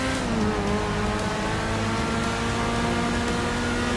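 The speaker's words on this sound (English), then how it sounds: "we can listen to the roar of the engine, that V12 engine" A loud, continuous V12 sports car engine roar drones steadily with layered mechanical tones, sustained and close throughout, in the video game GTA 5.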